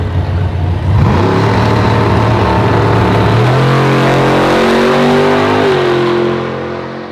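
A 1000 horsepower Coyote-powered drag car launches down the strip, a loud, close engine roar climbing steadily through the gears with audible shifts before fading slightly at the end.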